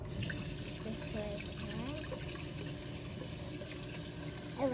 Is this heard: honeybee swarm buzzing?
no